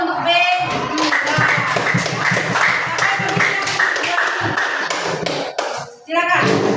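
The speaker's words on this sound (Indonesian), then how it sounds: "Tepuk tangan dulu untuk B3." A classroom group applauding a student team, with steady rapid claps from many hands. The applause stays loud for several seconds before trailing off and returning briefly at the end.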